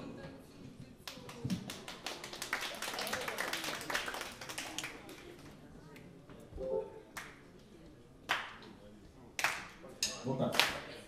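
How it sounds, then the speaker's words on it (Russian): An audience claps along at a concert during a saxophone piece, sharp rhythmic claps that thicken into a crowd burst, then come as scattered single claps, over quiet music. "Здесь тоже нужно хлопать."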